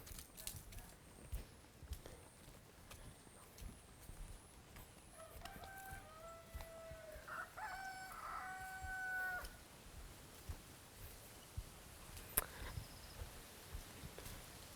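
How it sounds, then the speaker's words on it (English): Chickens cluck and a rooster crows in the distance in a village in Fiji, faint against a quiet outdoor background, with occasional soft steps and taps. "chickens."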